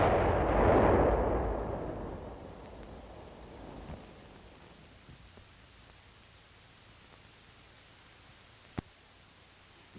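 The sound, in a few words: demolition charge detonated with blasting machine to destroy tunnel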